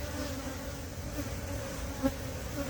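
Honey bees buzz in a steady, faint drone, a dense swarm humming continuously with no voices.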